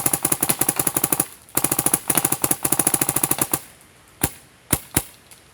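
A DM5 paintball marker fires fast strings of sharp, close pops in two rapid bursts, then a few single shots spaced apart after a short pause.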